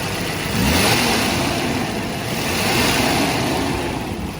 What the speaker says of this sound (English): A really nice smooth V12.